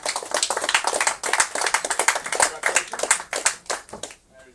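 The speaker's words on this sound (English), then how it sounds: "Let's give a big round of applause to Adrian Cook." Crowd applause at a kart racing prize-giving after third place in the heavy class is announced, steady clapping from many hands for about four seconds before fading out.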